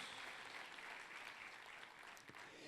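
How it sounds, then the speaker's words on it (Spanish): Church congregation applauding during a sermon, a dense, steady wash of clapping from many hands that holds even across the whole moment with no voices on top. "Si le va a aplaudir, apláudele al Señor"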